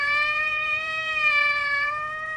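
A cartoon cat meowing during a fire rescue story, one long, sustained, tonal high-pitched cry held steadily and loud with no talking.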